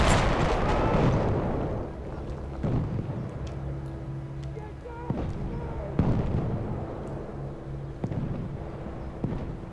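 Grenade explosion in a first-person shooter video game, a loud broad blast at the start that decays, followed by scattered gunfire pops and smaller bangs over a low rumble, with game music tones underneath.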